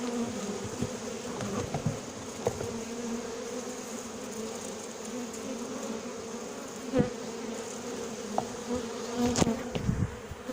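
Honey bees buzz in a dense, steady drone while a colony is moved into a hive, with a few louder close passes of individual bees rising above the continuous swarm hum.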